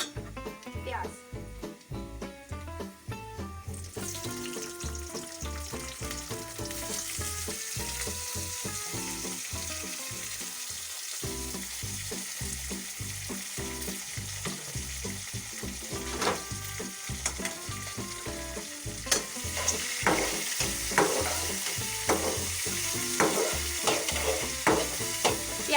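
Onions sizzle and fry in a pan with lightly cooked garlic, with repeated scraping stirs over a steady crackle throughout, for an achari band gobi (cabbage) dish.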